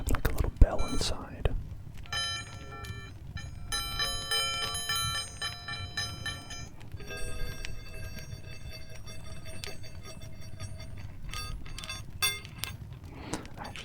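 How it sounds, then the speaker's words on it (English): A little bell rattles inside a small roll-around object, producing repeated tinkling jingles in bursts across the passage, soft and close, with quiet whispering and handling noises in between. "So I have like a little bell inside."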